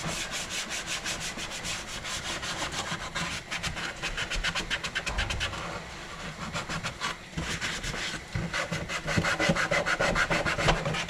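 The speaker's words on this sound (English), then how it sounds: "We might hit it with some more serious sandpaper." Sandpaper scuffing the center console of an NA Mazda Miata to prep it for paint, a steady close, rapid back-and-forth rasping that runs continuously with slight swells in intensity and no talking.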